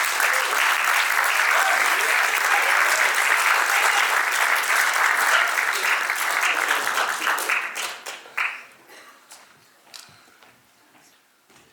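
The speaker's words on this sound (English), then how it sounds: "Please give these guys a round of applause." A live audience at a Q&A with a film's director and cast breaks into dense, loud applause that holds steady for several seconds, then thins into scattered individual claps and fades out.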